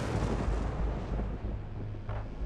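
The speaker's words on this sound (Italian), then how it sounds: "The thunder is loud." A low, rolling thunder effect booms and rumbles continuously, deep and heavy, with a slight swell partway through and no voices.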